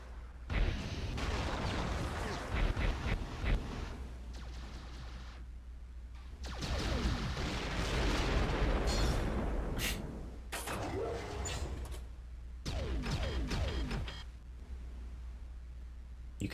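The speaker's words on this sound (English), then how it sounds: "It's fun to try and get them to shoot the walls next to them, because they always blow themselves up." Turrets in the Descent 3 video game firing and blowing up, with dense rumbling blasts and crackling bursts coming in several waves over a continuous low game drone.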